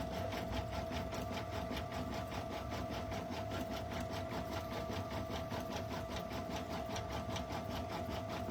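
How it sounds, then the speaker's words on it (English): A sewing machine set to run slowly stitches a satin stitch in a steady, even mechanical rattle with a constant hum, running without pause throughout. "my machine is set down to stitch slower"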